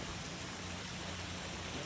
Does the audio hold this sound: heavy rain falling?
yes